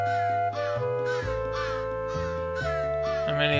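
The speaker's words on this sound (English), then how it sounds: "There's the birds." Crows cawing in the Santa Claus in Trouble video game, a series of harsh caw bursts repeating roughly every half second over steady synthesized game music, loud and close with no talk.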